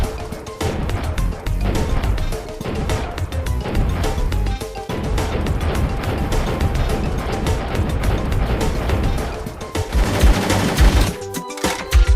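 Rapid automatic fire from a Kalashnikov rifle rattles in loud, sustained bursts, with brief gaps between volleys and sharp cracks near the end.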